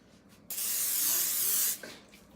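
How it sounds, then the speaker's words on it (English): A single steady hiss of nonstick cooking spray onto a pan, lasting just over a second, close and fairly loud, with quiet room noise before and after. "I put a little bit of the nonstick spray on there."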